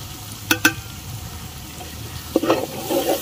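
Ground spice and cashew masala sautéing in hot oil, a quiet sizzle punctuated by two sharp spoon clinks against the pan and a short burst of stirring near the end.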